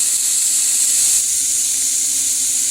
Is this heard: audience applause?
no